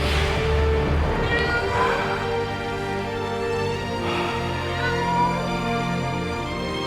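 A cat meowing, with drawn-out, fairly loud cries that rise and fall over a steady background drone, repeating across several seconds.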